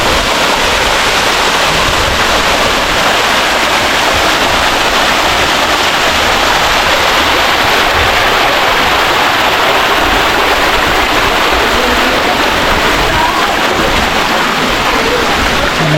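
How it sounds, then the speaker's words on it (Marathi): Loud, constant rush of water pouring and splashing over mossy stone temple steps into a tank, a steady roar that never lets up. "मंदिरांच्या सगळ्या पायऱ्यांवरून वगैरे पाणी वाहत आहे"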